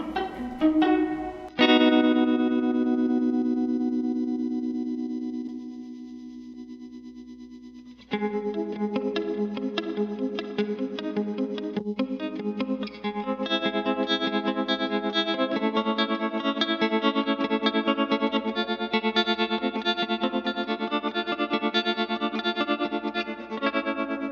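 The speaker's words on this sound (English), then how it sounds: "let's see the opto. Let's get a nice choppy kind of sound here." Electric guitar run through a Fender opto tremolo pedal, giving a choppy, pulsing tone: a sustained chord, then a break and steady strummed playing with rhythmic volume chopping, loud and alone without talk.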